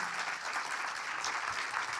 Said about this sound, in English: A big applause for Gia.